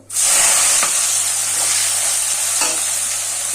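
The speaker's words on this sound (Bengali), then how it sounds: "এরপর দিয়ে দিচ্ছি কুচিয়ে রাখা পেঁয়াজগুলো" Chopped onions hit hot oil already holding small bay leaves, setting off a loud, steady close sizzle with faint scrapes of stirring, no voices.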